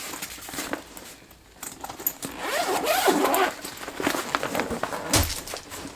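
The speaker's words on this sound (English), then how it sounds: "the awesome thing about this bag, find the zipper" A diaper bag zipper is pulled open in several close, raspy strokes, with some rustling and handling noise in between.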